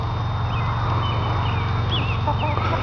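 Free-range hens, including a four-year-old laying hen, clucking and calling in short scattered notes over a steady low rumble of background noise, fairly faint and intermittent across the scene.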